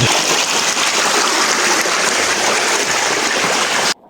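A creek flows steadily and loudly nearby, a dense continuous rush of water that holds without pause and then cuts off abruptly at the end.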